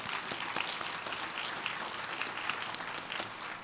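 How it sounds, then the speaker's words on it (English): Conference audience at a lightning-talks session applauding a speaker as he walks up, a steady wash of many hands clapping at moderate distance, sustained without pause and with no talk over it. "Give him a round of applause as he makes his way up."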